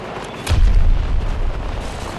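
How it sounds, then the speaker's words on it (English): A grenade goes off in Battlefield 2042 as a single loud, deep boom with a rumbling tail, close by, during game combat. "Grenade!"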